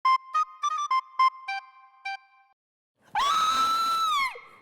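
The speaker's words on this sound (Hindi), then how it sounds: "अबे क्या है इतना चीख भी?" A person lets out a loud, sustained scream lasting about a second, after a series of short electronic beeps and a brief silence, heard alone with no talk.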